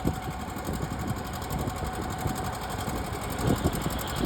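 Two-cylinder John Deere tractor engine at an outdoor tractor pull, a steady popping, chugging run heard continuously at moderate distance with crowd ambience, swelling slightly louder near the end.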